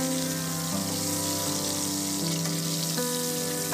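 Salted, turmeric-rubbed hilsa fish head frying in hot oil, a continuous bubbling sizzle heard close up with a few soft knocks and a low background hum, no voices.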